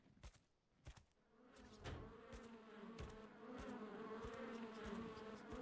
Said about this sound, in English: I think there's bees here somewhere.